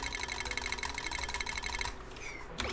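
Computer mouse clicking while building in a space biome base game: a fast, steady run of rapid, even clicks continues for about two seconds, then stops and leaves a brief quieter tail.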